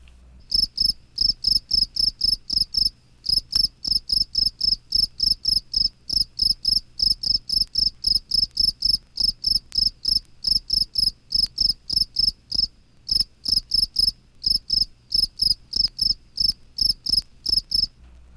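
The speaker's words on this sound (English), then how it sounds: "The field cricket, Cicadas assimilis, one of the few spring songsters of the insect world, sings on the ground both day and night" A field cricket sings on the ground in spring, a close, loud, steady series of short shrill chirps repeating in a regular rhythm with brief pauses, alone without voices.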